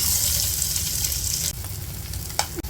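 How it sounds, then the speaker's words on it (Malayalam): Eggs coated in turmeric, chili powder and salt fry in hot oil for an egg curry, giving a steady close sizzle with a couple of brief clinks near the end and no talk. "മുട്ടയും കൂടി ഇതുപോലെ തന്നെ ഫ്രൈ ചെയ്തെടുക്കാം"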